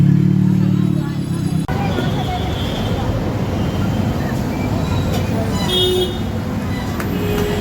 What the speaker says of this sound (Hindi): काफ़ी बिजी रोड है